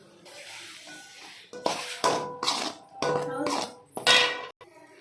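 Ash gourd halwa being stirred in ghee in a pan, heard as repeated close scraping and clattering of a metal spoon against the pan in short bursts, with brief pauses between strokes.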